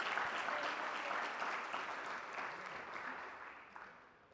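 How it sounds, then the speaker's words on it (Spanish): Applause from a church congregation during a sermon, a soft, distant wash of clapping that gradually fades out. "¿No creen que valdría la pena que diéramos una ofrenda de palmas?"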